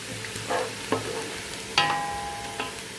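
Onions browning in a pan for chicken kosha, with a low steady sizzle broken by a few sharp scraping stirs of a utensil, close and moderately quiet, no talking.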